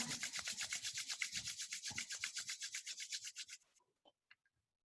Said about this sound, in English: Rub your palms again.